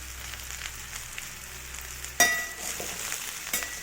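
Cut eggplant, beans and carrots go into a pan of frying potatoes, a low sizzle broken by a sharp clink and a louder burst of frying, with no talk.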